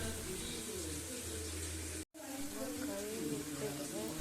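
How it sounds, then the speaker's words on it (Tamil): Green gram being rinsed under running water makes a steady, close rushing of water, broken by one brief gap, continuing alone after. "இப்போ 4 முறை அதை கழுவி எடுத்து வச்சுக்கோங்க"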